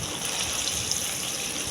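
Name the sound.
paneer frying in a pan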